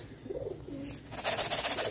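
A white pigeon with a black tail coos in short, low, throaty phrases, fairly close, with a brighter burst of noise and fluttering toward the end.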